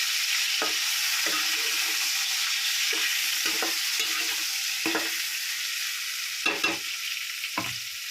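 Eggplants (brinjals) frying in a pan and being stirred: a steady bright sizzle throughout, punctuated by about ten short scraping stirs of the spoon at irregular intervals, with no talking.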